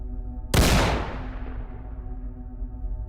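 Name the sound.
shotgun shot sound effect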